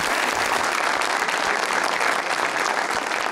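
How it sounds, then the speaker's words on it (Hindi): Dense, steady applause from a studio audience, loud and continuous from start to finish with no talking. "सबा हमीद साहिबा को बहुत सारी तालियां लगारी"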